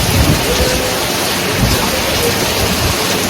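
Heavy rain pouring steadily in a Punjabi village, a loud dense hiss that stays constant throughout with a few heavier splashes.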